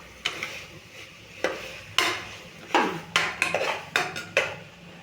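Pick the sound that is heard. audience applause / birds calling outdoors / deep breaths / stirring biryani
stirring biryani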